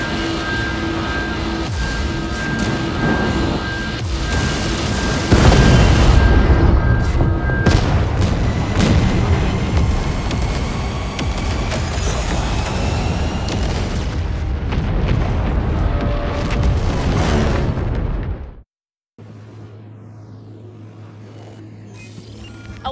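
Heavy weapon fire and booming explosions hit a demon in a sci-fi shooter. The sound is dense and loud and runs without a break for about eighteen seconds, then cuts to a quieter low hum.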